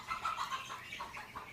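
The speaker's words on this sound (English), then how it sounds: "Welcome to Hawaii and our feral chickens." Feral chickens cluck outdoors in Hawaii, a steady run of soft, overlapping calls at moderate distance over a bed of rustling background noise.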